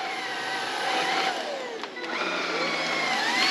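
An AiDot 280-watt cordless vacuum cleaner runs steadily on its low setting, a close, continuous whining hum with shifting tones and a brief dip midway.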